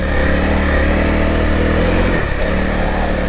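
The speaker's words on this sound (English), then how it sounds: "we'll try a little dirt riding here for a second" An adventure motorcycle engine hums steadily and loudly while riding on dirt, with a constant throaty drone and a brief dip near the end.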